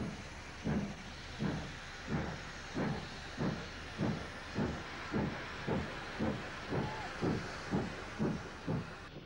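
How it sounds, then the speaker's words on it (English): A train hauled by a British Standard Class 3 steam tank engine works along the Cambrian coast route in 1962, with regular strong chuffing exhaust beats over a steady hiss, heard alone at moderate distance. "the rear portion of the train set off behind a standard Class 3 tank engine"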